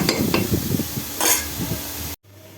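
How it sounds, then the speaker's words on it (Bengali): Leafy greens frying in a pan with onion and garlic, giving a steady sizzle and hiss punctuated by stirring scrapes and clinks of a utensil against the pan, close by, before the sound cuts off abruptly near the end. "এই যে পেঁয়াজ রসুন ভাজা হয়ে গেছে এখন আমি শাক হয়ে গেছে শাক ভাজা"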